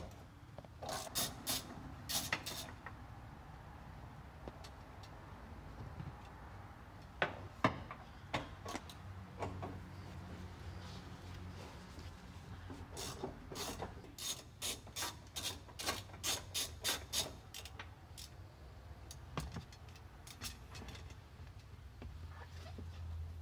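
A ratchet wrench on a socket extension working side bolts loose, bursts of rapid clicking strokes separated by pauses, close but quiet, with the busiest run of clicks late on.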